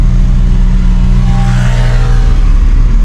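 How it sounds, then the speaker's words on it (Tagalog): A motorcycle passes close by on a road in Rodriguez (Montalban), Rizal, its steady engine drone loud and continuous throughout with no talk. "Nagulat ako sa dumaang motor eh."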